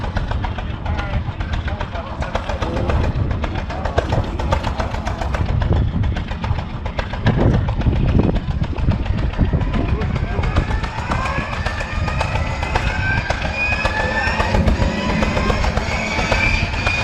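A restored antique V12 engine fires up after a flywheel is wound, running loud and continuous with a rough, pulsing rumble throughout, close by, with voices faintly under the noise.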